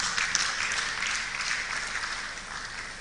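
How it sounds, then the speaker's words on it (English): An audience at a cleaning-industry exhibition event in Africa applauds to welcome a speaker, a steady, moderately distant wash of clapping that fades slightly toward the end. "Mr. Azurunwa, let's give him a warm applause, ladies and gentlemen."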